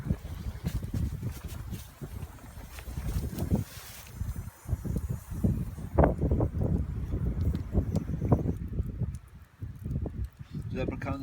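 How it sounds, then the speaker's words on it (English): Strong, gusty wind sweeps across a winter hammock camp on a hillside bank, roaring and buffeting the microphone in uneven surges that rise and fall without pause. "Wind's getting stronger now."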